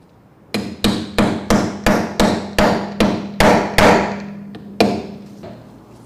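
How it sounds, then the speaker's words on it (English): Eleven sharp metallic hammer blows ring out in a steady rhythm, close and loud, hammering two 5-gram balancing weights onto a wheel rim, with a final strike after a short pause. "hammer in the two 5-gram weights in the 12 o'clock position."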